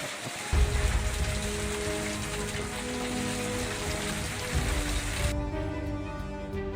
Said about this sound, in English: a storm with large hail in Indonesia.